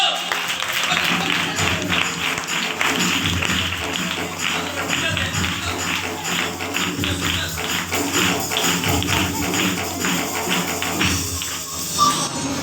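A crowd at a children's ministry gathering claps steadily as a child receives a prize, producing dense, continuous clapping throughout, with voices mixed in.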